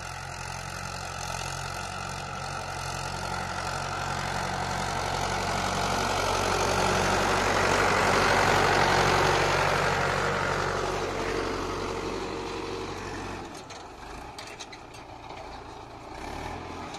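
A tractor engine drones steadily while shaping raised beds for planting soybeans in a field, a continuous low rumble that swells louder as it passes close, then fades as it moves off.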